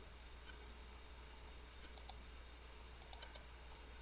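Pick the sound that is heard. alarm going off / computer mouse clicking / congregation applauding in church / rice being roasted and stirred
computer mouse clicking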